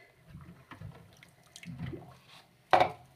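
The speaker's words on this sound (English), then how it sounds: "Now I'm going to let the water out" Bath water drains from a tub during a Sphynx hairless cat's bath, giving faint gurgles and drips followed by one louder slosh near the end, with no talk.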